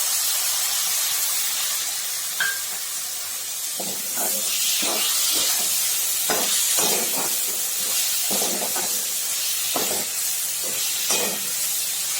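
Finely ground tomatoes hitting a hot pan, a loud continuous hiss and sizzle with scattered crackling spits and pops, close up.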